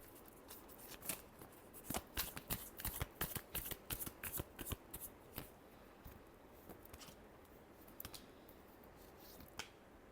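Tarot cards being shuffled in a final shuffle, a run of crisp papery riffles and slaps clustered in the first half, then a few scattered flicks, close and fairly quiet with no voices.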